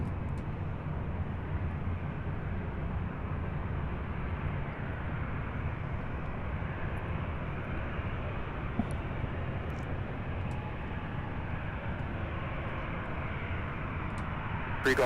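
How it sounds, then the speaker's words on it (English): A UPS MD-11 heavy freighter departs from runway 35 right, its engines a steady, distant broadband roar holding level throughout with no talk. "We'll have our first MD-11 departure from 35 right"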